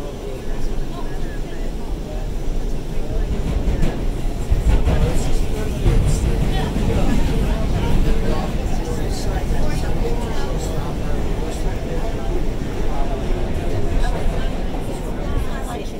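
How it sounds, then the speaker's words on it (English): Onboard a New York City subway train running between 72nd Street and 42nd Street, a loud, steady rumble and roar of wheels and motors fills the car while a voice speaks over it. "We're racing another train."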